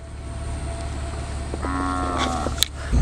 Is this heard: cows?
yes